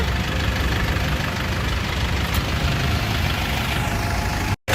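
A 2014 Toyota Hilux Vigo Champ pickup's 2.5-litre D4D diesel engine idles with a loud, continuous rumbling clatter close by, cutting out abruptly for a moment just before the end.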